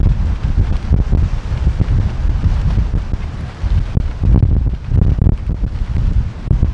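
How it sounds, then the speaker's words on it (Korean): Strong wind buffets the microphone at a sea fishing spot on a rainy day, a loud continuous rumbling roar with gusty surges and no pauses. "바람은 엄청납니다. 어, 바람 엄청나고"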